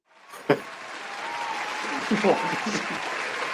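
Canned applause from a soundboard button, a steady wash of clapping that swells after a sharp tap at the start and runs on under scattered voices.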